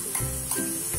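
Hot tempering of urad dal and curry leaves stirred into coconut chutney, giving soft sizzling bursts and a few wet stirring sounds, close and fairly quiet over a short moment.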